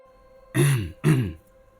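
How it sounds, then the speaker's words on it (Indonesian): A person clears their throat twice in quick succession, close and clear against a quiet background. "aku mendengar suara seseorang berdehem"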